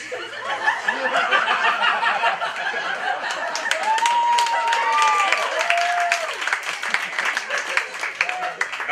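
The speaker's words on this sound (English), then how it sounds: "Okay, you can clap" Comedy club audience bursts into clapping mixed with scattered laughter and chuckles, a dense, close crowd sound lasting several seconds with no talk over it.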